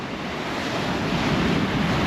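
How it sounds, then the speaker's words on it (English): Rough sea surf rolls in at Folkestone beach on a windy day, a loud continuous wash of breaking waves mixed with gusty wind buffeting the microphone, with no talk. "Here's the sea. Rough, as you can see. Rough, very rough."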